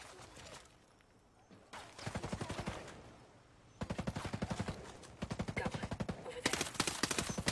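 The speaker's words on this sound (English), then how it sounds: "Oh, I missed all them shots." Video game gunfire in rapid bursts, with several fast rattling volleys of shots close up and a quieter stretch between them.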